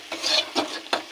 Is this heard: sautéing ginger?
yes